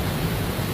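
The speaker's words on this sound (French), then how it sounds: "Magnifique cascade" A Scottish waterfall pours in a steady, dense roar, a constant wash of rushing water with no pauses and no voices.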